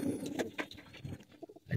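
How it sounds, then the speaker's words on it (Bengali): Pigeons coo in a loft, giving soft, low, repeated calls close by. The calls are fairly faint and sit over light background noise. "সবকটা কবুতর আলহামদুলিল্লাহ অ্যাক্টিভে আছে"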